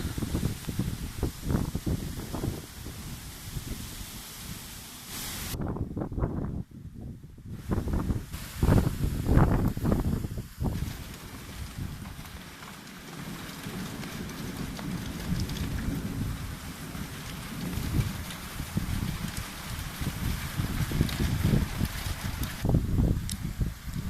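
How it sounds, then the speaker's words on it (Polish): Stormy weather outdoors, with wind gusting and light rain pattering steadily, rising and falling in intensity throughout with no talking. "Wiatr jest słabszy teraz deszczyk na razie lekko kropi."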